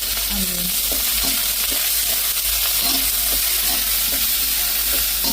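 Green chilies and onion frying in a pan, a steady close sizzle running throughout with intermittent scraping clinks of a spoon stirring, no voices.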